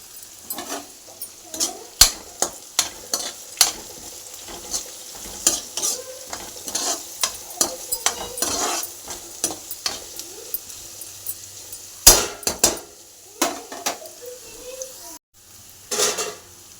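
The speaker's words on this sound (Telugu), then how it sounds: "జీలకర్ర పోపు ఇవన్నీ వేసేసాను పచ్చనపప్పు ఆవాలు ఇవన్నీ వేసేసాను ఈ వేగుతున్నాయి" Cumin, chana dal and mustard seeds crackle in hot oil for a tempering, with soft continuous sizzling. Sharp clinks of a spoon stirring against the pan punctuate it irregularly, and the sound stays close and moderate in level.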